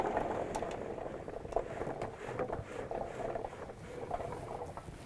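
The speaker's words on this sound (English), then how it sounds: "I'm going to go ahead and fill up my hopper" Pre-washed coffee cherries pour from a 5-gallon bucket into a pulper hopper, a continuous soft rattling patter of small fruit tumbling together, steady and close for several seconds.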